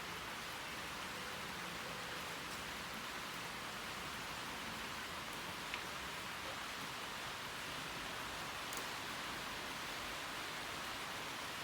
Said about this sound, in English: it's raining outside today, so we can hear this pitter-pattering on the roof of our showroom